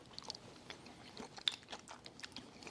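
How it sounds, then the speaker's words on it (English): Close-up crunching as crunchy water chestnuts in a Southern potato salad are bitten and chewed, quiet irregular crisp bites and wet chewing with no talking. "I just got one of those crunchy water chestnuts"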